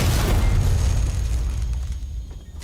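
A flashbang detonates in the Alien: Isolation video game, a loud, close, booming blast that opens the clip and rolls off into a long, fading roar.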